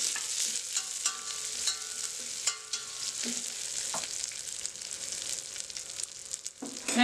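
A grated ginger mixture sizzles softly in a pan while a spoon stirs it in quick scraping strokes, fairly quiet and close, with no voices.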